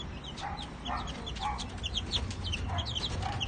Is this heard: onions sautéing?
no